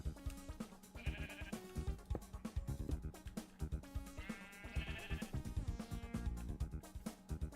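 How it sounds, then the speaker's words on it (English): Minecraft sheep give two or three short wavering bleats over steady game music with rhythmic footstep-like thumps, moderately loud against the background. "All the sheep went over into that corner. They really don't want to be there."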